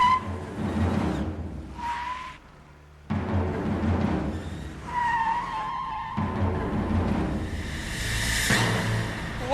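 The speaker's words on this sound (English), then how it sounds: "let's give these brakes a little test, shall we?" Car tires skid and squeal in several bursts, with engine noise rumbling underneath and a long screech near the end.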